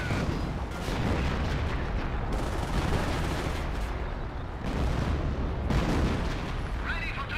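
Artillery barrage in Company of Heroes, a World War II strategy game, with repeated heavy booming blasts and dense rumbling battle noise running continuously throughout, loud and close.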